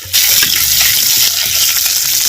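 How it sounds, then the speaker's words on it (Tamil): Dried fish is half-fried in hot oil, giving a loud, steady sizzle that starts abruptly and hisses continuously, with a few light scraping clicks and no talking. "எண்ணெயில் கருவாடை ஒரு அரை பதத்துக்கு எண்ணெயில் வதக்கிக்கிறோம்"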